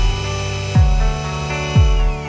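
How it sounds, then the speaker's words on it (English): A power drill whirs steadily, then dips twice in quick low grinding drops as the bit bites into the wall while drilling mounting holes, close and loud. "drill the holes"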